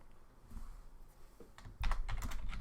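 Typing on a computer keyboard: faint scattered key taps at first, then a close burst of rapid, clicky keystrokes.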